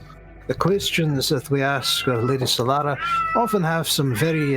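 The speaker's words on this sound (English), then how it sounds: "That was my cat." A house cat meows in another room, its cries overlapping continuous close speech from several people talking over it.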